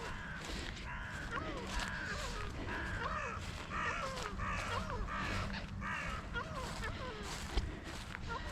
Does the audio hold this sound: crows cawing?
yes